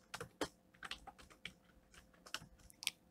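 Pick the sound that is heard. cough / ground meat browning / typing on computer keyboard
typing on computer keyboard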